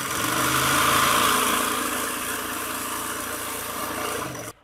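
A sewing machine runs steadily while stitching the sleeve of a bridal tail maxi dress, making a continuous close whirring motor drone that ends abruptly, with no talking.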